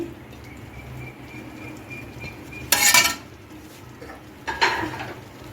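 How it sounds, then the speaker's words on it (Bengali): Chopped vegetables are stirred into cooked-down spices and tomato in a pan for chira khichuri, with two short bursts of scraping and clinking from the utensil over a quiet background hum. "মশলার সাথে ভালো করে মিশিয়ে নিচ্ছি"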